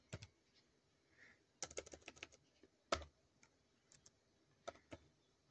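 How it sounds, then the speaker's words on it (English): Someone types on a computer keyboard in quick irregular bursts of light, close key taps separated by brief pauses, quiet overall. "you type in capital letter out,"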